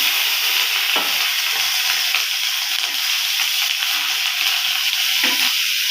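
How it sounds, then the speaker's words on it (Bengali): Panch phoron spices and cut chillies fry in hot oil for a vegetable curry, producing a loud, continuous sizzle and crackle with occasional stirring, heard alone without talk. "তেলের মধ্যে আমি পাঁচ ফোড়ন দিয়ে দিলাম লঙ্কা কেটে রেখেছি সেগুলিও দিয়ে দিলাম"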